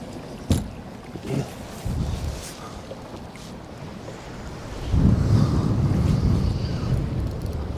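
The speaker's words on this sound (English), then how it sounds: "This wind's caused me all kinds of dramas." Wind gusts buffeting a small fishing boat on the flats, a rough rumbling roar that comes in bursts and then swells to a sustained blustery rush near the microphone, with water slapping beneath.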